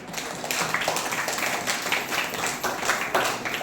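An audience claps at a children's Christmas celebration, a dense, steady patter of many hands that carries on throughout.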